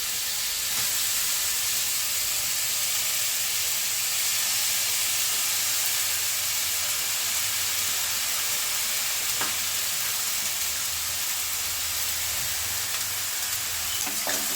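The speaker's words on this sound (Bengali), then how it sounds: "বাঁধাকপিগুলো দিয়ে দিচ্ছি।" Shredded cabbage added to hot white oil with ginger and green chili for veg momo filling, a loud, dense and continuous sizzle with steady hiss and occasional faint stirring scrapes, no talking.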